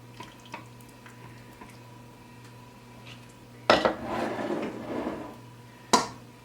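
Salsa going into glass canning jars for water bath canning: two sudden clanks of a utensil or ladle against glass and metal, the first followed by a short stretch of scraping and pouring, over a low steady hum.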